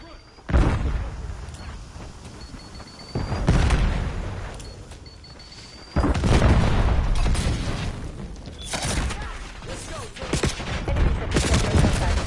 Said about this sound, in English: I just hear all these shotguns going off.